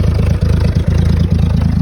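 A car engine with a dragging exhaust idles loudly up close, a deep, steady rumbling chug with a regular pulsing rhythm.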